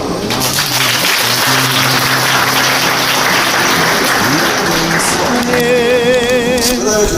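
Ceremony audience applauding, a loud, dense wash of clapping sustained throughout, with a low tonal hum and some faint background sounds underneath.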